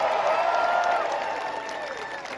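Stadium crowd applauding and cheering at a US Open Cup trophy ceremony for Nashville SC, a broad sustained roar of clapping that fades slightly toward the end.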